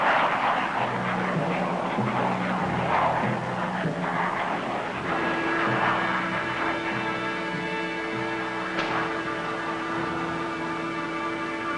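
Military aircraft engines rumble and drone steadily through an advanced alert by Tactical Air Command, a continuous loud roar with sustained engine tones and no voices.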